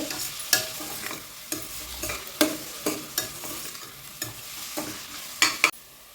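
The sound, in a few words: onions sautéing in pan for mutton curry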